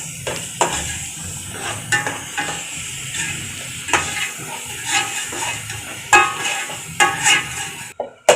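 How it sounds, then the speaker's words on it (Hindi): Onions browning in ghee in a pot, a steady sizzle and hiss broken by the scrape and clink of a spoon stirring against the metal, close up and without speech. "तो अब हम इसको प्याज को ब्राउन कर लेंगे"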